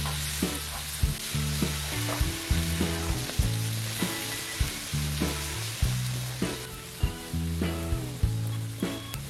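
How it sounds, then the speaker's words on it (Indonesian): Ground spice paste sizzles and fries in hot oil in a pan, a steady crackling hiss broken by repeated scraping stirs in a regular rhythm, close and alone without voices. "Setelah minyak panas, kemudian kita akan langsung tumis bumbu yang tadi sudah kita haluskan."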